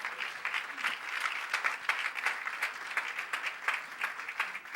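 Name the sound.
congregation applause of praise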